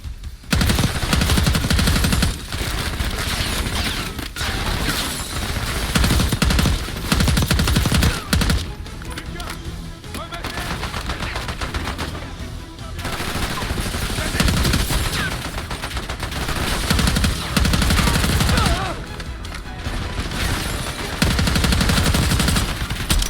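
Automatic gunfire and rapid weapon bursts from Call of Duty Black Ops 6 gameplay on PC, loud and near-constant in long sustained volleys with brief lulls between them, and no talk over the shooting.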